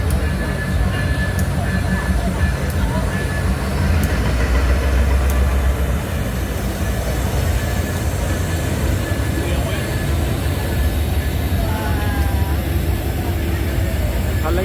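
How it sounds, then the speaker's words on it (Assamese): A park excursion train at Stone Mountain Park, Atlanta, pulls in with a continuous low rumble and rolling clatter, a high whine or brake squeal creeping in, while people nearby talk over it. "ট্ৰেইনখন আহিব ধৰিছে এই ট্ৰেইনতে আমি যাম ফুৰিবলৈ"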